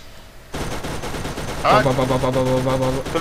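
Rapid turret gunfire in the video game Borderlands sounds as a dense, loud burst of automatic shots with tonal electronic effects, and people talk over it.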